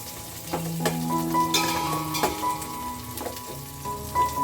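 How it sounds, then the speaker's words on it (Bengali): Chopped onions sizzle gently over low heat in ghee and oil, with scraping stirs and clicks over a continuous frying hiss and a low background hum. "ঘি আর তেল দিয়েছি একসঙ্গে ভালো করে পেঁয়াজগুলোকে একটু ভাজবো"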